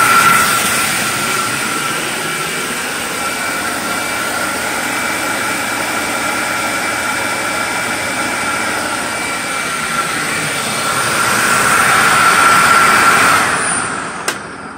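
An Electrolux Marquise vacuum cleaner with a 12 amp motor runs steadily with a loud, high-pitched whine and rushing airflow, swelling briefly near the end before cutting off.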